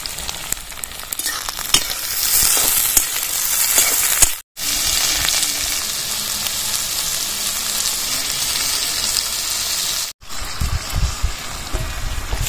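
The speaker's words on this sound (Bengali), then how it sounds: "সবজিগুলো ভেজে নিয়েছি" Chopped capsicum, onion and tomato frying for chow mein, with a loud, continuous close sizzle and crackle broken by two brief silences and stirring scrapes in the pan.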